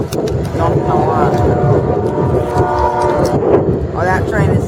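Freight train rolling through Fostoria with a loud rumble of rail cars and clattering wheels close by, while short horn blasts sound intermittently over the noise and a voice speaks in the background.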